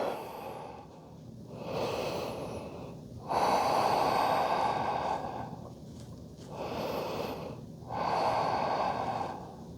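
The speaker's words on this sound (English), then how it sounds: "Let's take 2 more full inhales." Deep, full inhales and long exhales during a slow yoga spine stretch, three drawn-out breath cycles close to the microphone, each swelling and fading in a steady rhythm with no talking.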